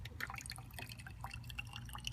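Aviation fuel drips and trickles from a small plane's sump drain into a sample cup during a preflight fuel check, with quick, faint irregular drips over a low outdoor hum.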